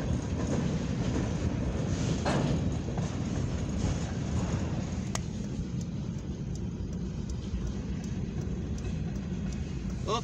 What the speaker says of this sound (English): This is a mixed freight train.